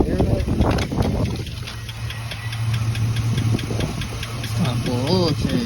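A truck engine idling after an oil change, lifter tick gone, a steady close low rumble with light regular clicking running throughout and a voice briefly over it near the end.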